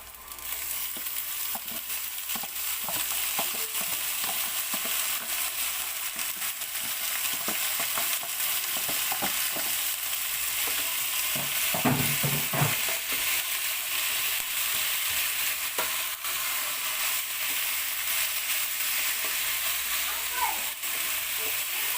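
Marinated beef sautés in a pan for Filipino beef steak tagalog, giving a continuous loud sizzle with occasional stirring scrapes and clatter throughout.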